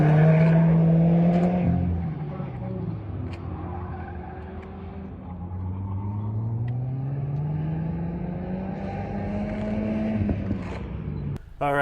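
A 2020 Subaru WRX on an autocross course, engine droning and shifting pitch as tires squeal continuously under hard cornering and ABS braking, loud and close throughout without talk.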